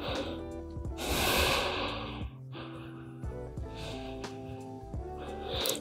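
Slow, deep breaths drawn in and let out while resting in yoga puppy pose, forehead down on the mat; long, airy, close-up breathing with soft music underneath.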